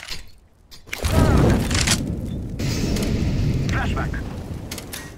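A grenade blast in Counter-Strike: Global Offensive gameplay, a loud booming explosion that swells suddenly after a brief quiet stretch and rumbles on with dense debris noise for several seconds.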